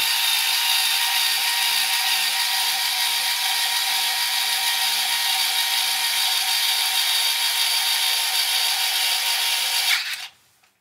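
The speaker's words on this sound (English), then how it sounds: "I think you could have heard the driver there." A small power driver turning the screw of a VEVOR 3-inch mill vise whirs steadily and close for about ten seconds, a continuous high buzzing that cuts off abruptly at the end.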